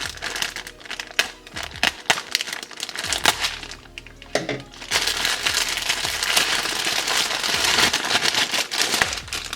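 Plastic wrapping on a South Korean civilian ration bibimbap pouch crinkles and tears up close, with sharp crackling bursts first and then a steadier loud rustle.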